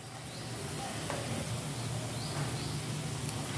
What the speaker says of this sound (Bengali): ভেজে নেব বন্ধুরা।